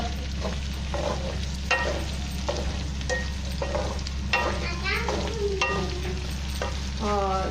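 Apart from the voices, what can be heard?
onions and capsicum stir-frying on high flame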